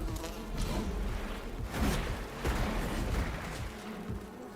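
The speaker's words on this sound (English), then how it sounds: "He's vomited bees." Swarm of bees buzzing in the survival video game Enshrouded, a dense continuous drone with several louder surges, steady throughout with no talk.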